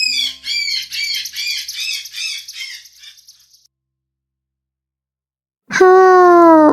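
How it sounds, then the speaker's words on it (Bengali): A parrot gives a rapid series of harsh, raspy squawks for a few seconds, then falls silent before a loud tonal voice-like sound begins near the end. "টতে টিয়া, টিয়া পাখির ঠোঁটটি লাল।"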